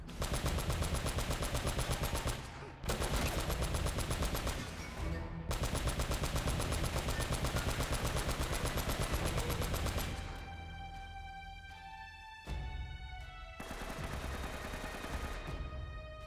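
Sustained automatic gunfire in the Uncharted: Drake's Fortune video game, loud rapid bursts with brief pauses, then more scattered shots and ringing tones near the end.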